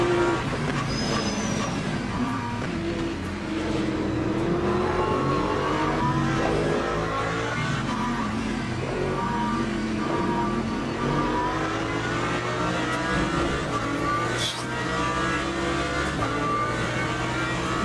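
A BMW race car in Le Mans Ultimate at Sebring passes with a steady, loud engine roar and shifting tonal whine, continuous throughout with no talk.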